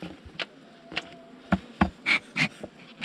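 Honeybees buzzing around honey frames during a honey harvest, bees clinging to frames and trying to escape; intermittent buzzing passes and short bursts rise and fade close by over quiet background, no talk.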